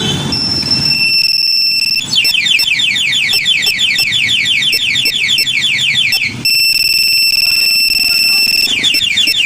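A two-way motorcycle alarm on a Raider 150 Fi sounds loudly and continuously, cycling through rapid warbling sirens and steady electronic beeps, briefly pausing and restarting, with voices talking underneath.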